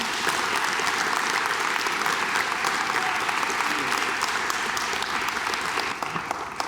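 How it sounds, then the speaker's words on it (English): A television studio audience at a racing champions panel applauds, loud and continuous clapping from many hands filling the whole stretch, with a faint crowd murmur underneath. "Big round of applause would be appropriate"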